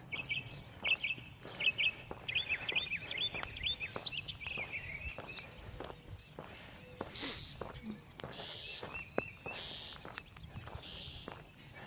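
Birds chirp and sing in the morning near a hollow in the Smoky Mountains, faint bright calls over quiet footsteps along a walk, with occasional clicks and soft background noise.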